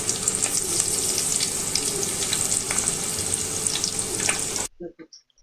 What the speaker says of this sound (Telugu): ఆనియన్స్ బ్రౌన్ కలర్ వచ్చేంత వరకు బాగా వేపుకోవాలండి